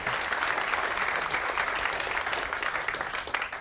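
A conference audience at a security event applauds steadily after a threat intelligence talk, dense clapping filling the room at an even level throughout.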